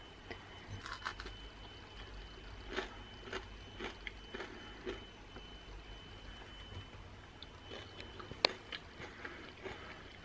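Crunchy food is bitten and chewed close up on a cold snow day in London, with several soft, irregular crunches over quiet background noise.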